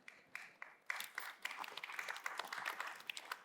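Audience applause after a talk on othering and belonging, beginning as scattered claps and swelling into steady clapping from a room of listeners.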